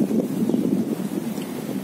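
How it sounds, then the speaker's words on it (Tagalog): Strong wind gusts over the microphone in Tsuen Wan Park, Hong Kong, a steady low roaring buffet that stays loud and continuous throughout. "Ang sarap ng hangin guys, as in, nililipad ako."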